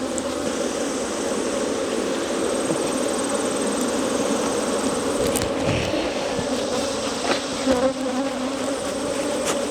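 Dense, steady buzzing of many honeybees during a queen transfer, a loud continuous drone that holds throughout, close up, with no talking.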